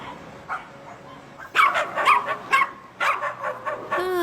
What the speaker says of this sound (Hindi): ओह, क्या यहाँ हमेशा ही इतने सारे डॉग्स होते हैं?